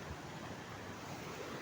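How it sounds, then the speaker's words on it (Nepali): A rising mountain river rushing by, a steady broadband roar of flowing water with some wind buffeting, no voices. "यहाँको खोला पनि अलिअलि बढिरहेको रहेछ"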